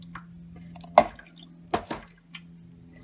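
Soapy water drips from African violet leaves being washed to remove powdery mildew, falling in a few distinct, close drops with short pauses between them.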